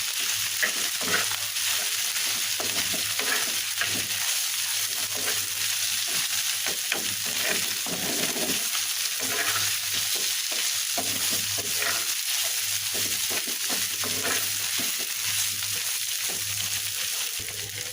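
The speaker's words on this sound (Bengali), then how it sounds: "এবার ভালোভাবে মিশিয়ে দেবো দিয়ে তুলোর ডালটা কমিয়ে দিয়ে এটাকে একটু ভেজে নেবো" Broccoli mash with a rohu fish tail fries in a pan, giving a steady, continuous sizzle with soft stirring scrapes and a constant low hum throughout.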